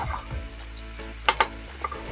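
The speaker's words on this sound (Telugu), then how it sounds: "ఈ ఆనపకాయ ముక్కల్ని నూనె వేసి మగ్గిచ్చేసుకుందాం" Pieces of bottle gourd frying in oil in a pan: a soft, steady sizzle with a few sharp clinks of stirring near the end, close and fairly quiet, no talking.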